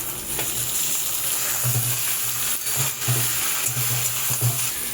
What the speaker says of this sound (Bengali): আলু পেঁয়াজটা বেশ ভাজা ভাজা হয়ে গেছে এবার আমি এতে বেগুনগুলোকে দিয়ে দেব